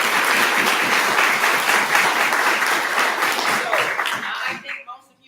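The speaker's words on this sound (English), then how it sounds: "Now, first, I'm going to give you a round of applause." An audience gives a round of applause at a leadership council meeting, dense steady clapping that fills the room for about five seconds before tapering off and stopping abruptly.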